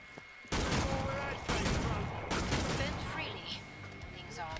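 Gunfire in the video game Killing Floor 2: a sudden loud burst opens a dense, continuous barrage of shots with a second heavy volley partway through, and the firing carries on under a voice.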